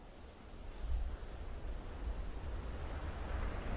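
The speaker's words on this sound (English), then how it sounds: "These are the sounds of the ocean here" Ocean waves wash in as a steady, broad roar of surf, continuous and fairly loud, with wind blowing across the shore.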